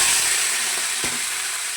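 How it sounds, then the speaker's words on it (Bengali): Grated ginger and tomato fry in oil tempered with dried red chillies, making a loud, close, steady sizzle with a single soft knock partway through. "আদা টমেটোটা ভাজা হয়ে গেছে।"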